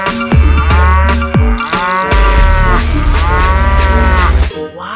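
A toy cow gives a loud, close electronic moo, repeated in several drawn-out calls with short breaks between them.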